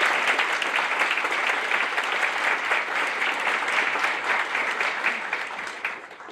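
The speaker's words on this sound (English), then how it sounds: "Let's give applause for Rabbi Fogel, Dean Johnson, Dr. Grover, D" Steady, sustained applause from a seated audience fills a Doctor of Physical Therapy white coat ceremony, even and continuous for several seconds before tapering off slightly at the end.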